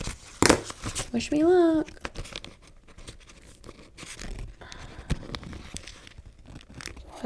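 Paper being cut out by hand with scissors for a planner spread: scattered short crisp snips and rustles close by, mixed with a spoken line and a brief squeaky tone early on.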